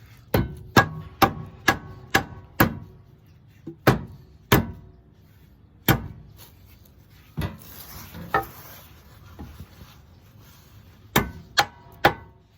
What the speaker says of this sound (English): I'm just going to use a little board, to hit it in place